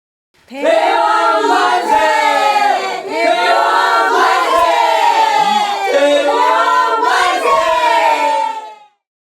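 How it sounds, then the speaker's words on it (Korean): A crowd outside cheers and shouts in unison, the loud chant of long live the king rising in repeated surges over about eight seconds, full-bodied and continuous with many voices together. "밖에서 대왕 만세의 환호성이 터져 나온다."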